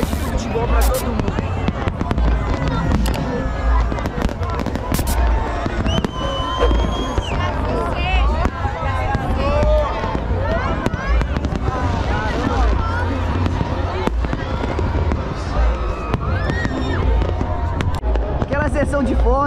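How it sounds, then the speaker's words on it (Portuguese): Fireworks burst and crackle at a New Year's Eve celebration, dense sharp pops going off continuously near and far, with a crowd murmuring and people talking throughout. "Tá que estoura fogos aí, ó."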